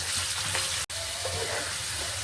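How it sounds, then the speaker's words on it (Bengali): Potato pieces frying in a wok of oil with a little salt and turmeric, a steady close sizzle with faint stirring scrapes and a brief dropout midway. "এই পিট করে উল্টে পাল্টে ভালো মতো ভেজে নিতে হবে।"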